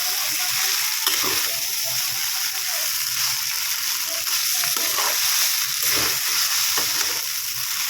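Hakka noodles are stir-fried in a pan, with a continuous loud sizzle and the repeated scrape and toss of stirring throughout.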